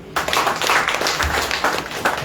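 An audience bursts into applause at a university convocation press conference, a steady wash of many hands clapping that starts abruptly and continues at even loudness.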